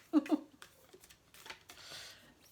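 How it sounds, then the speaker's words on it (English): Oracle cards being shuffled by hand, heard as soft papery rustles and a short riffling burst that follow a brief voice. The sound is quiet and close. "They are the most difficult cards to shuffle."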